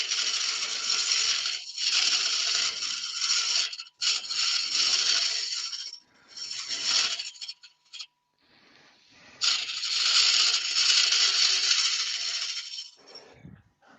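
A Simon Hope mini hollower cuts into wood on a lathe during woodturning, giving harsh, close scraping bursts that stop and restart several times, with no talking.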